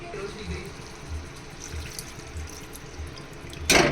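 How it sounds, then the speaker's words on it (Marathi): Water is poured into a pan of prawn masala, giving a steady liquid wash over a low cooking hiss, with a louder splash near the end and a voice faintly in the background. "आपण याच्यात थोडंसं पाणी टाकूया आणि झाकण ठेवूया"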